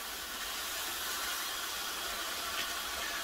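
Cheap supermarket value bacon frying in a pan, a steady, even hiss of sizzling fat that carries on without a break, moderately close and with no talk over it.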